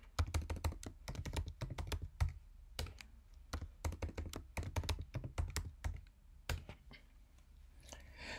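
Rapid bursts of clacking keystrokes on a computer keyboard, close and crisp, as a disk encryption password is typed in, with short pauses between runs of keys.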